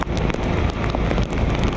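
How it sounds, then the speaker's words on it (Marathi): Monsoon rain falls steadily in Palghar near a waterfall. A dense, continuous hiss of drops strikes surfaces close by, loud and unbroken with no voices. "पाऊस काय थांबया नाव नाही घे"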